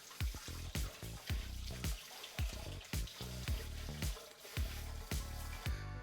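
Quinoa is rinsed with water in a sink: faint, rhythmic swishing and splashing in quick repeated pulses, with no other sound over it.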